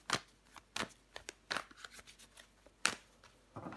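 Tarot cards are gathered and shuffled, making a quiet series of sharp riffles and soft slaps at an uneven rhythm, with short pauses between bursts.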